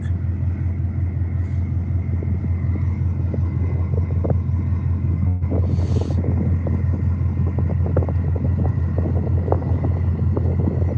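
A boat motor drones steadily at close range, a constant low rumble with some wind buffeting the microphone throughout.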